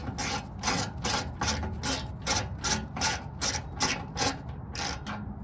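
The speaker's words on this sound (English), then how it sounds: "So we'll just take these 12mm bolts out." A ratchet loosens 12mm bolts on the oil filter housing of a Toyota 4Runner with a 1GR-FE engine: a quick, rhythmic run of sharp clicks in short bursts, close up and alone.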